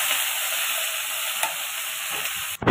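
Potatoes and small kachki fish frying lightly in a pan, a steady close hiss of sizzling oil that cuts off abruptly near the end.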